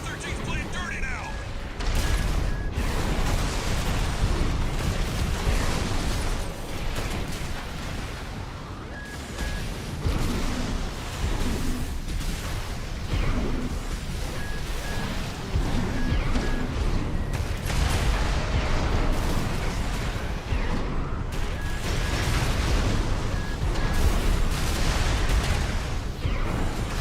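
Gunfire and explosions rattle through a video game battle in dense repeated bursts and booms, with a player talking over the noise.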